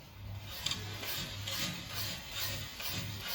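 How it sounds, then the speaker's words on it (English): A sewing machine stitches trouser fabric up close, its motor running in a steady rapid rhythmic whir with regular pulsing bursts throughout, alone without talking. "So I'm just going to sew."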